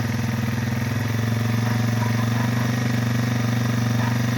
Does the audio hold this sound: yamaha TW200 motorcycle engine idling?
yes